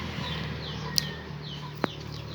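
A few soft clucks from a chicken nearby, with a couple of sharp scratching clicks amid quiet outdoor background noise.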